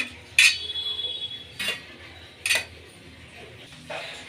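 Bafauri, steamed dumplings from Madhya Pradesh, lifted from the steamer onto a plate, making a few sharp metallic clinks and scrapes of utensils against a plate, spaced out over a few seconds with no talking.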